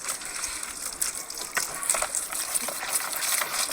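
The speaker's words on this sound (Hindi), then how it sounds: "मैं सही से पहले पानी मार देता हूँ हर साइड में इसकी मशीन के।" Water is splashed and sprayed onto the sides of a washing machine to clean it, a close, continuous gushing and spattering wash of sound with no talking.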